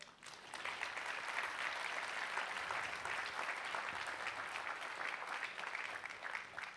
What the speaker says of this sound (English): So then say thank you with a big round of applause to your faculty.